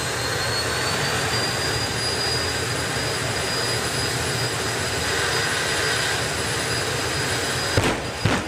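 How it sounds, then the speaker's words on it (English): Jet dragster turbine spooling up at a drag strip, a loud steady roar with a high whine held throughout, ending in a few sharp burst-like pops near the end. "The afterburner pops will get louder and fiercer."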